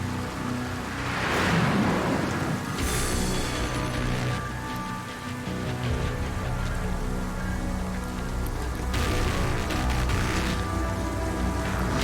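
Steady rain hiss with low rumbles of thunder in Metal Gear Solid V: Ground Zeroes, filling the scene continuously with no talk.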